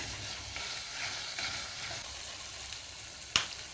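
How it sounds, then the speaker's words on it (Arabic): Small pieces of tomato fry in a pan with a faint, steady sizzle while they are stirred now and then, and a sharp brief clink comes near the end. "افضل اقلب فيها كده لغايه ما تاخد منها كلها ببعضها، والطماطم تكون صغنونه خالص."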